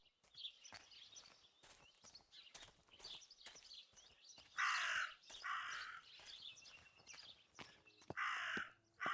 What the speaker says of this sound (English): Maybe it's the same raven that killed that poor sparrow.